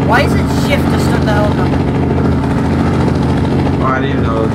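A helicopter engine in a game drones loud and steady throughout with a constant low rumble, while people talk over it.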